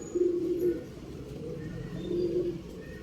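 A breeding pair of pigeons kept for sale coo softly nearby, two low, throaty coos spaced about two seconds apart against quiet background noise.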